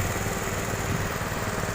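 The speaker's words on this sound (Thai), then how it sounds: "อันนี้ใช้เครื่องหมุนหมุนหมุนมันก็จะ เหมือนจะไว" An engine-powered earth auger bores into the ground, its motor a steady, loud, close droning roar that holds evenly throughout without any pauses or voices.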